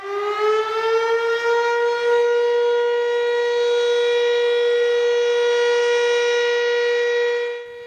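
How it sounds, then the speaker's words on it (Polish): A civil defense siren wails on 1 August in Poland, rising at the start into a loud, steady sustained tone that holds for several seconds before tapering off at the end, heard alone with no voices. "dlaczego 1 sierpnia wyją syreny"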